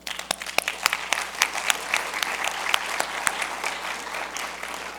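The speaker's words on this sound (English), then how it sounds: "But they do deserve a round of applause." Audience applause fills a hall at the SEforALL Global Forum 2025 closing award ceremony: a steady, dense wash of clapping with sharp individual claps standing out, fairly loud and continuous throughout, with no speech over it.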